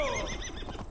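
A horse whinnies in Assassin's Creed Valhalla, a close, loud neigh with a falling, wavering pitch lasting about a second, heard alone.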